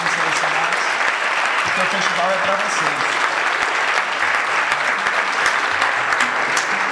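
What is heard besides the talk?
audience applause for game developers at festival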